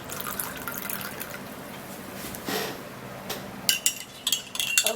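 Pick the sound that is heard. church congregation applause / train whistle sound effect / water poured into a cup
water poured into a cup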